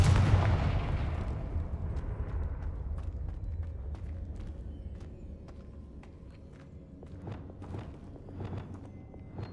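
A blasting spell cast in a video game: a heavy booming blast at the start that rolls off into a long rumbling tail, followed by scattered sharp cracks and thuds, with no talking.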